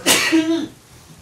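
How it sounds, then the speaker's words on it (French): A single sharp sneeze bursts out close by and trails off into a brief voiced exhale, followed by near quiet. "Je vais éternuer, je suis désolé d'avance."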